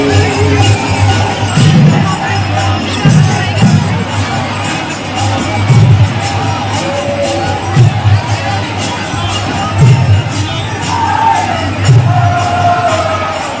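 Dense crowd of pilgrims in the streets of Vrindavan, a continuous roar of many voices with recurring louder bursts of shouting and a low steady hum underneath, close and busy throughout.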